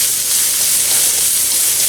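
Carrots and other vegetables sizzle hard in a hot pan during a stir fry for instant ramen, a loud, continuous bright hiss with no voices.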